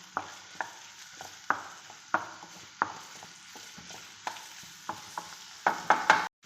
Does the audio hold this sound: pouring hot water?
no